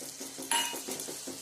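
A metal spoon clinks and scrapes steadily against a pan as turmeric and coriander-cumin powder are stirred into a tempered garlic and red chilli chutney, with one brighter clink and a soft sizzle underneath.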